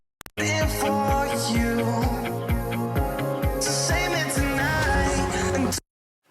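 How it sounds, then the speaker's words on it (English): An electronic dance track plays in full through a mastering chain, a dense, loud mix with a steady pulsing beat and bright synths that ends abruptly after about five and a half seconds. "this is actually the final track with all the audio stems, and this is my mastering chain"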